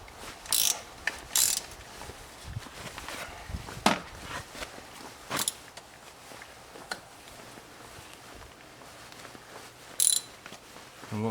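A socket ratchet loosening a spark plug on a BMW X3, giving scattered clicking bursts and short ratcheting pulls at close range, separated by quiet gaps.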